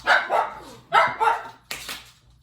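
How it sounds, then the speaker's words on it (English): A dog in a courtyard barks three times in an uneven rhythm, each bark a doubled, fairly loud woof heard from a short distance with a little echo. "there was a dog in the courtyard"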